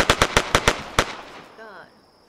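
Rapid burst of six gunshots from a single gun in the DayZ video game, loud sharp cracks in quick rhythm followed by one more shot and a fading echo, with no talk.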